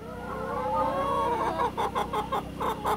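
Several Barred Rock and Buff Orpington hens clucking together in a flock, with overlapping close calls and a steady drone of farm background noise; the clucks grow louder and more choppy toward the end.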